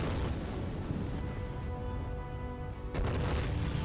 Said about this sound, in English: 76mm HE round explosions